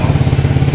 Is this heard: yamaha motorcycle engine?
yes